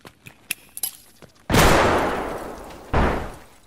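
Grenade and flashbang going off in Escape From Tarkov: a few light clicks and taps, then a loud, sharp blast at about 1.5 s that fades over a second, followed by a second close burst that tails away.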